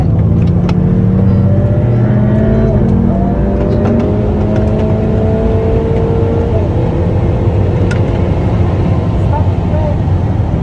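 A Ferrari F8 Spyder accelerates on a race circuit, its engine note climbing through the gears as a steady loud roar heard from the cockpit, while a person talks over it.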